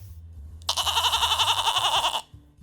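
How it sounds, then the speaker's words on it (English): A single loud, close goat bleat, a wavering, nasal cry lasting about a second and a half, heard alone against quiet background. "Mythical goat"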